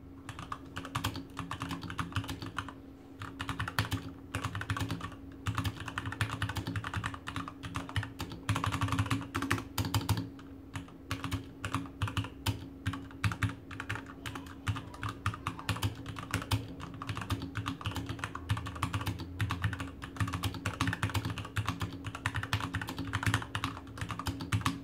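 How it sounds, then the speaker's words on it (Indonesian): Someone types steadily on an ROG Falchion keyboard with Cherry MX Red switches, producing a fast, continuous stream of soft, close keystroke clacks with brief pauses and a low background hum underneath. "Untuk suara saat dipakai mengetik adalah seperti ini."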